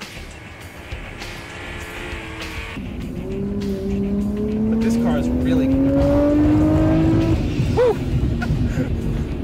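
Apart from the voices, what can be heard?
1999 Nissan Skyline R34 GTR engine accelerating in a video game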